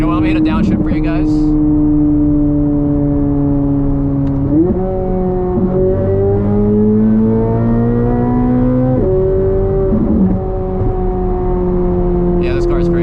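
A purple Chevrolet Corvette C8 Z06 engine drops through downshifts, revs stepping up in sharp jumps between steady droning stretches, loud and close from inside the car, with brief talk at the start and end.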